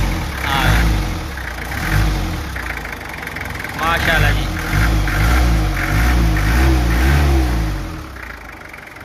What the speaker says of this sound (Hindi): आप सिर्फ गड्डी स्टार्ट हो जी इंजन आवाज तुसा सुनो जी